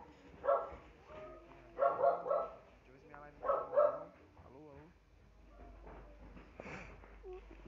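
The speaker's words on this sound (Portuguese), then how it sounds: "só ignorar os cachorros" Several dogs bark in repeated clustered bursts, fairly close, with some whining yips toward the end; no speech.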